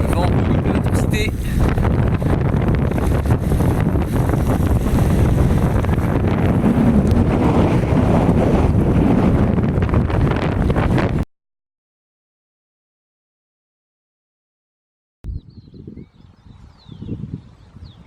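Strong wind buffeting the microphone on a bicycle trip along the road to Trujillo in Spain, a loud continuous roaring rush that cuts to silence, then returns in brief gusty bursts.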